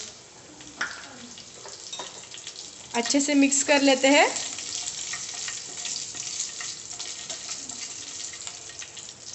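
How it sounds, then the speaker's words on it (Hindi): Cumin seeds, curry leaves and garlic cloves sizzle in hot oil for an Uttarakhand-style breakfast. A steady frying hiss runs throughout, with a louder, sharper crackle for a moment near the middle, and a voice talks briefly. "तो तेल अच्छे से गर्म होने के बाद इसमें डाल देते हैं 1/2 टीस्पून ऑफ जीरा, 7 से 8 कड़ी पत्ते और 3 से 4 लहसुन की"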